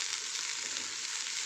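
Amaranth leaves fry in a small wok (kadai) with a steady, close, even sizzle that hisses without pause and with no voices.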